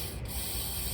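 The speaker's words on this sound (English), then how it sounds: "this would be a good time to spray everywhere else that takes a key too" Aerosol lubricant sprayed into the key lock of a Toyota Tacoma pickup, a steady close hiss running for the full second with no talk.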